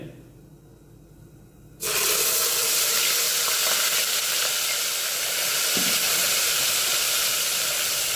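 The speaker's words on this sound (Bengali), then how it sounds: "এর মধ্যে আমি জল দিয়ে দেবো" Water poured into a hot pan of spice masala with Kashmiri chili powder and sugar, cooked for yogurt chicken, sets off a sudden loud hiss. The steamy sizzle then continues steadily and close up after a quieter start.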